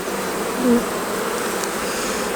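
Honey bees buzz steadily throughout an open-hive beekeeping inspection, a dense, even drone close by with no voices over it.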